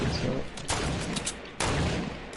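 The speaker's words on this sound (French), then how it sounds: "ça fuse les balles de snipe" Sniper and other gunfire in the video game Fortnite, loud sharp shots with booming bursts and rapid crackling, dense and close over about two seconds.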